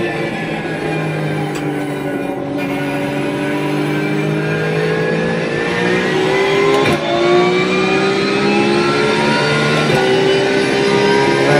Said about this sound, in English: This is a Suzuka circuit. The car is a Porsche 992, I believe.